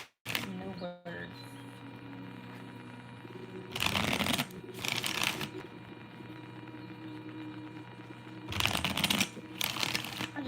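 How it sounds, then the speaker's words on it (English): Tarot cards are shuffled in two loud bursts of rapid riffling and slapping, separated by quieter handling, with a sustained tonal hum beneath. "I just want to get a nice little shuffle."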